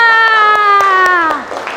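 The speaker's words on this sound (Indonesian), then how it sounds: "tepuk tangan untuk kita semua" Schoolchildren in a classroom clap in a quick, regular rhythm beneath a long, held shout or chant whose pitch slides downward before breaking off, with a final scattered clap at the end.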